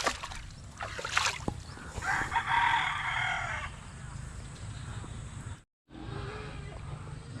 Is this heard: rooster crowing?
yes